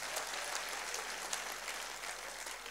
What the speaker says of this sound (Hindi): एक बार ताली बजा सकते हैं